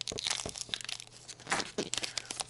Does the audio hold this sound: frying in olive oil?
no